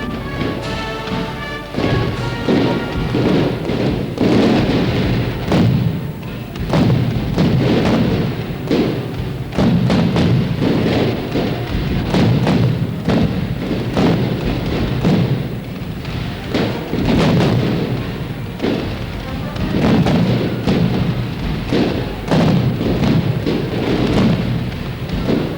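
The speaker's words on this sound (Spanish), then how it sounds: "cerca de 200 kilos de fuegos artificiales para conseguir esta luminosidad que tenemos esta noche en el cielo de Valencia" About 200 kilos of fireworks bursting over Valencia at night during the 1987 Cremá castillo. Loud booms and cracks come in a continuous, dense barrage for the whole stretch, heavy and rumbling, with no pauses.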